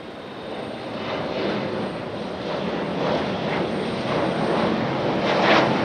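A Delta Embraer E175 regional jet rolls along the runway at Raleigh-Durham International in stormy weather, its engine roar a steady broadband rush that slowly builds, heard from a distance with no voices.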